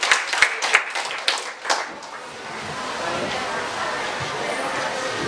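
Scattered loud claps open a round of applause for a speaker at a school debate, followed by a denser, quieter wash of clapping and murmuring from the audience.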